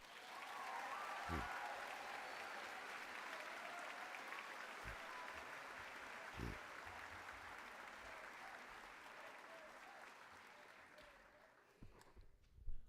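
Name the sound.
graduation audience applause for colleagues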